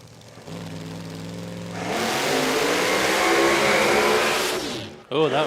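Drag racing car launching at Willowbank Raceway during a QDRC round: an engine revs with rising pitch, then breaks into a loud, harsh roar that holds for a few seconds before cutting off, and a voice speaks briefly at the end.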